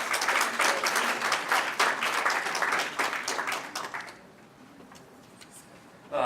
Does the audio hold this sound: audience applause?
yes